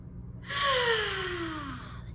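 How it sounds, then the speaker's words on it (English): A big deep breath drawn in and then blown out, one long airy exhale with a faint pitched whistle, close, over a low background hum. "All right, take a big deep breath, go."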